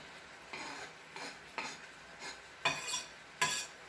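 A knife chops an onion on a board, giving about six separate close knocks spaced roughly half a second to a second apart, the last two louder and sharper, with no talking.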